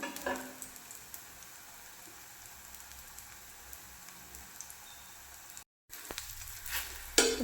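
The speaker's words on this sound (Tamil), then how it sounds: "இப்போ இந்த எள்ளு எல்லாமே இதில் நல்லா பொரியுது பாருங்கள்" Sesame seeds fry on a ragi sweet potato paratha in a pan, giving a steady crackling sizzle that cuts out briefly and returns with a few louder pops.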